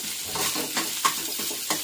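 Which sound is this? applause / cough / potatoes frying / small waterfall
potatoes frying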